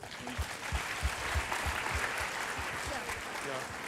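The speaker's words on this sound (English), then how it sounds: "A big round of applause." Applause for students at an international conference, a steady broad wash of clapping from an audience filling the whole stretch, with some voices mixed in.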